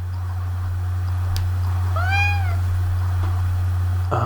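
A cat gives one clear, drawn-out meow near the middle, heard over a constant low electrical hum indoors, no talk.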